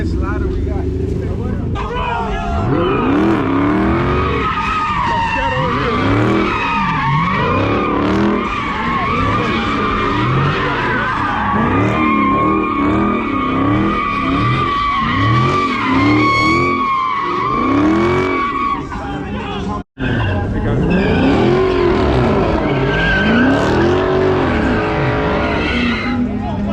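Car drifting at a busy car meet, its tires skidding and squealing in long wavering screeches over a loud, steady engine roar, with crowd voices and talk mixed in throughout.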